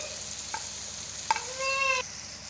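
Mutton frying in oil with red chili powder, turmeric and chopped green chili in a pan, a close sizzle with a couple of ladle clinks and a rising hiss near the end.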